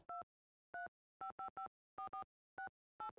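A car phone in a Nancy Drew video game gives about ten clear, short touch-tone beeps in an uneven dialing rhythm, some in quick pairs, each followed by silence, with nothing else audible.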